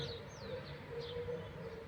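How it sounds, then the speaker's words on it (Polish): Several songbirds singing on a calm morning at an allotment garden, with faint chirps and whistled notes repeating over a steady low background hum. "Ptaszki śpiewają."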